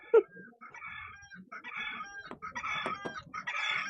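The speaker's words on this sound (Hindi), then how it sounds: "ए मुर्गा, अलार्म तुम बजना बंद करो" A rooster crows several times in a row indoors, each call clear and fairly loud, with faint background sound between the calls.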